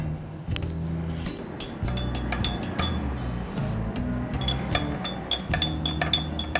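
A spoon stirs honey into kahwa in a glass, making steady rapid clinks against the glass over a low background rumble, close and without talk.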